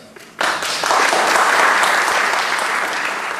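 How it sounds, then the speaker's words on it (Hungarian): Applause from a school audience for the students' parents at a Hungarian ribbon ceremony, bursting in after a brief quiet moment and holding as steady, dense clapping to the end. "most kérek egy tapsot tőletek szülőknek"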